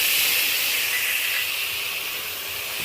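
Grated onion dropped into hot oil tempered with nigella seeds, giving a loud, steady sizzling hiss that fades only slightly over a few seconds, with no talking.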